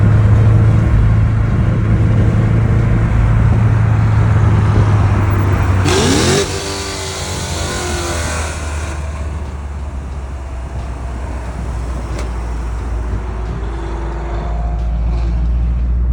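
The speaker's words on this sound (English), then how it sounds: "rev it up to like 5K so you guys can hear what it actually sounds like when it breathes" A Camaro fitted with an X-pipe exhaust idles with a deep burble, then is revved hard to around 5000 RPM, rising into a loud raspy roar before settling back to a steady low rumble.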